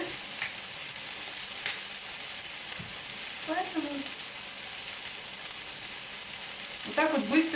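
Turkey cutlets sizzle steadily in a pan, four at a time, a constant close frying hiss with faint clinks of stirring; someone speaks briefly in Russian near the end.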